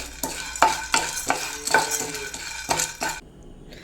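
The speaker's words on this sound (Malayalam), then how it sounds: "നമ്മുടെ പരിപ്പുകൾ ഇവിടെ ഫ്രൈ ആയിട്ടുണ്ട്." Stirring and scraping of lentils in a pan over steady frying noise, with rhythmic clinks of a utensil against metal, close up, while making sambar powder.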